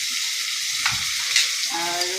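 Ginger garlic paste frying in hot oil in a wok, a bright continuous sizzle with short scraping stirs, close and loud, with no talking.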